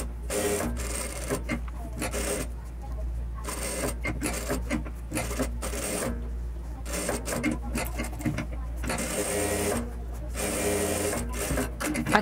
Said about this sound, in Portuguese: eu venho com uma costurinha reta virando uma vez só